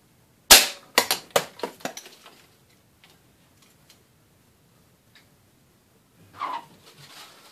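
A Benjamin Trail air rifle fires a pointed pellet into a can: one sharp, loud crack followed by a quick run of fading metallic ticks and rattles, then near silence and a brief soft rustle.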